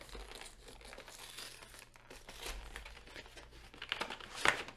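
A Pokémon card booster pack wrapper is crumpled and torn open up close, giving a steady crinkling rustle of foil plastic that builds to a sharper tearing rip near the end.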